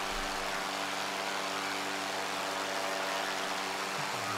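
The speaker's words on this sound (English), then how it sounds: "that'll probably turn those engine sounds down a bit" Aircraft engine drone from the Microsoft Flight Simulator game, a steady loud hum with stacked low harmonic bands running unbroken and alone for the whole stretch.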